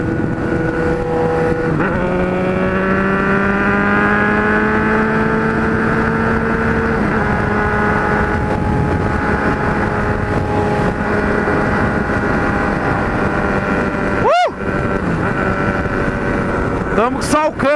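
Kawasaki Z1000 motorcycle running a loud open exhaust pipe on a ride, a continuous close engine drone with shifting pitch, plus a quick whooshing pass-by near the end under wind rumble.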